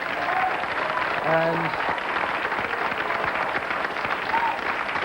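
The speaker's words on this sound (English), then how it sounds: "Now you can applaud for everybody." Sustained studio audience applause on a late-night television talk show, a steady broadband wash of clapping running the full length, with a brief spoken word and a short vocal tone partway through.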